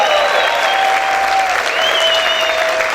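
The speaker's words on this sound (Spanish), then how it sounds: "¿Cuántos pueden gritar y aplaudir fuerte al Señor?" A church congregation applauds loudly and continuously, a thick, even roar of clapping with cheering voices and faint whistle-like tones riding over it.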